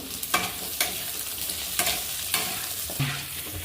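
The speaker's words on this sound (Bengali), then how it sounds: "আলুটা একটু ভাজা হলো" Drained, cut potatoes fry in a pan for a thin Bengali rui fish curry with vegetables: a soft sizzle broken by regular scraping stirs about every half second to second, with no voices.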